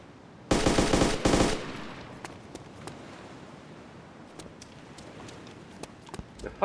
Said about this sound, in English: The fuck are you shooting at?